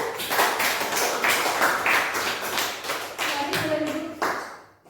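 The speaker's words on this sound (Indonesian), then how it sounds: "silakan berikan aplaus untuk kelompok 1" A classroom audience applauds a student group after their presentation, a steady burst of hand clapping lasting several seconds before fading out, with some voices mixed in.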